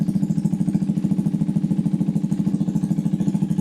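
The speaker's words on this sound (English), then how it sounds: "You see, now it's idling." A stock KTM 390 Adventure R motorcycle idles steadily up close, its single-cylinder engine thumping in an even, rapid pulse that stays constant throughout, with no talk over it.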